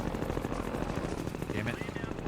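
Metrocop strafing gunfire during the airboat section of Half-Life 2, a dense rapid rattle of shots running throughout, loud and close, mixed with game noise and voices.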